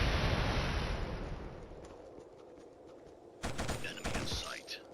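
Gunfire in the KillZone video game, a dense roar of shots that fades, then sharper bursts returning near the end.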